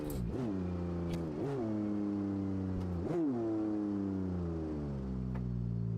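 An offroad truck engine making close to 1,000 horsepower in BeamNG.drive, revving up repeatedly with rising and falling harmonic whine over a steady drone, loud and close, with gear-like pitch drops between pulls.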